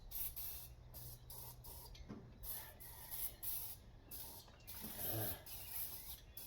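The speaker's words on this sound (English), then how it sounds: "Spray down the fucking hole." A spray can hisses into an engine hole on an engine unused for 30 years, heard as faint, repeated short bursts of hissing with brief gaps between them.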